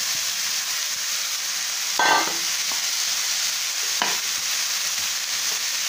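Grated sweet potato tipped into a hot pan of sautéed onions for bonda filling, giving a steady soft sizzle with a brief stirring clatter near the start and another short scrape later.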